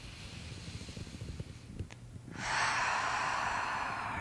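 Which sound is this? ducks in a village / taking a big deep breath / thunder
taking a big deep breath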